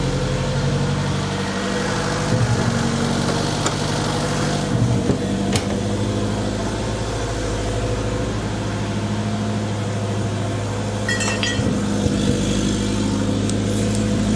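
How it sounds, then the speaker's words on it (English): An idling car engine with a misfire, a steady low rumble heard close up with irregular stumbles and knocks breaking into the hum. "You can hear it misfiring."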